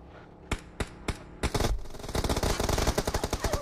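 Bursts of gunfire in the mobile battle royale game PUBG Mobile: three separate sharp shots, then a rapid automatic volley of crisp rhythmic cracks, loud and close with no talking.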